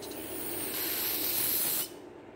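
Brake cleaner blasts from an aerosol spray can in one steady, close hissing burst lasting nearly two seconds before cutting off abruptly.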